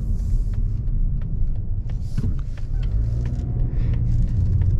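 Interior of a 2021 Mazda3 Premium AWD hatchback slowing to a halt at a stop sign, a steady low road rumble and engine hum throughout with faint clicks and ticks over it, no talking.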